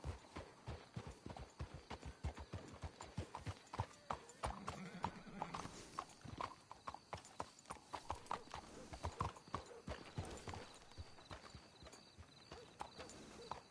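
Horses' hooves clip-clop in a busy, uneven rhythm in the video game Red Dead Redemption 2, with occasional snorting and a muffled voice in the background.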